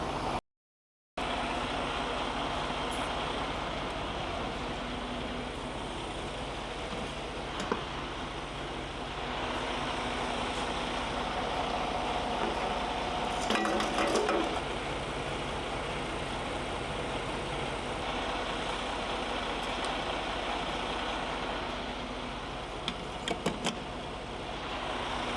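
A parked semi truck's engine idles steadily and continuously, a low, even drone with faint hiss that stays constant throughout, with no voices.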